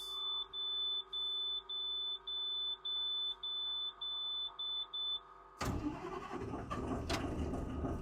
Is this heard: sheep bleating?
no